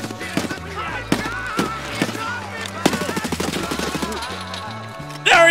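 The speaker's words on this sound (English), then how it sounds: "Stop shooting at me, Scav!" A Scav's gunfire in the video game Escape from Tarkov rattles in rapid, loud bursts over a low music bed, with a louder blast near the end.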